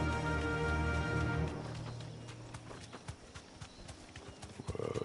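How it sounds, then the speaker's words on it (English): Horse hooves clip-clopping at a gallop in Final Fantasy XVI, a steady rhythmic patter over a game music bed, with scattered hoof thuds, fairly faint and distant. "Whoa, giddy up, horsey"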